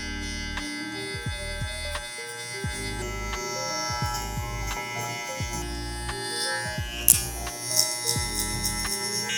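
Electric hair clippers fitted with a 1.5 guard cut hair at a barbershop, a steady close buzzing hum with small shifts in pitch as the blade moves through the hair, alone without talk.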